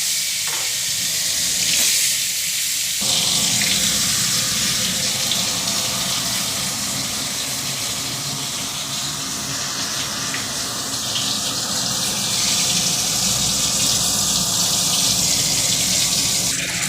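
Turmeric-coated eggplant slices sizzle and crackle steadily in hot oil in a heated wok, a loud continuous fry with a brief quieter stretch at the start and no talking.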